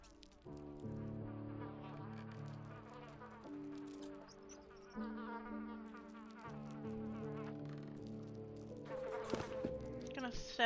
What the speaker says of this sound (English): Gonna step out so I don't have to listen to the buzzing of insects.